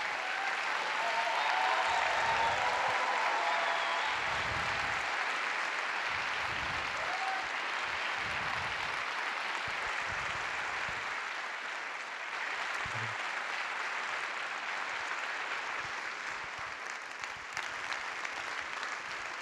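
Sustained audience applause fills a hall at an evening talk welcoming Paul Watson, founder of Sea Shepherd, a dense steady clatter of many hands that holds throughout and slowly eases toward the end.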